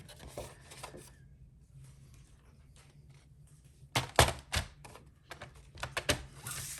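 Scrapbook paper cut in half with a cutter, heard as quiet sliding and rubbing followed by a cluster of crisp clicking and slicing strokes near the end.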